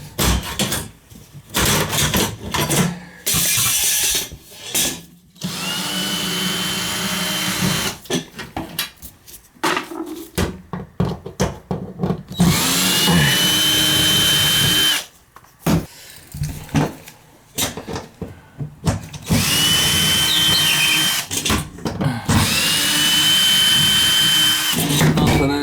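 A power drill backs screws out of sheetrock in repeated loud, close whining bursts that ramp up and stop, separated by short gaps with handling clatter.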